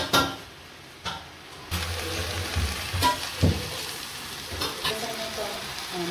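Ginger frying in a pan with softened onion for egg biryani, a steady close sizzle broken by scraping stir strokes and a few pan clatters.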